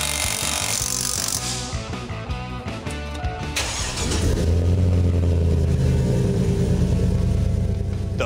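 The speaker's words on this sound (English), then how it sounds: "Flowmaster Super 40 has a nice aggressive rumble without being overly loud or obnoxious." A 2002 GMC Sierra 1500 engine with a Flowmaster Super 40 exhaust cranks with a rhythmic stutter, then catches and settles into a deep, steady rumbling idle, close and loud, with no talking.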